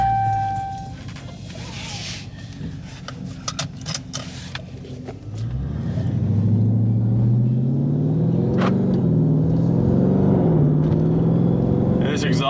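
Chrysler 300 Scat Pack exhaust while driving, a low steady drone that swells after a quieter stretch with scattered knocks, then holds a loud, continuous rumble at cruising speed under a speaking voice.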